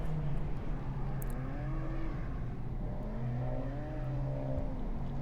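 Honda Civic Type R pushed hard around an empty race track, its engine rising and falling in pitch through revs and gear changes, loud and steady from inside the car.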